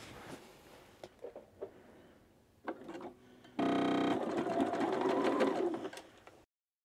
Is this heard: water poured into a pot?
no